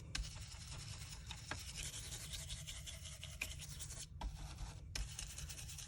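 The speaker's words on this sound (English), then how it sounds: "I'm using distress brushes for this because I just want a light blend" A distress brush blending ink onto a paper card for a beach scene, giving a steady, quiet, close bristly rubbing with short breaks between strokes.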